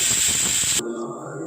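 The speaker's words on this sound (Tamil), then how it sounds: "விசில் வர ஆரம்பிச்சிருச்சு" A pressure cooker cooking lentils whistles, hissing loudly with a high steady whine for under a second, then drops to quieter sputtering steam.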